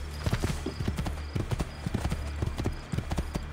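Horse hooves clip-clop in Assassin's Creed II, a quick, steady run of close, crisp hoofbeats over a low game drone, with faint voices in the background.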